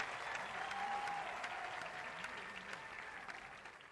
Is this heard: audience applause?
yes